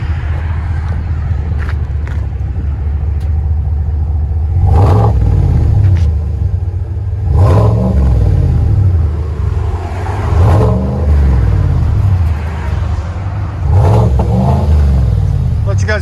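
A 2021 GMC Sierra AT4 pickup with a 6.2L V8 and dual Flowmaster Super 10 exhaust idles with a deep, loud burble, then is revved in four sharp blips that rise and fall, each surging over the steady low rumble.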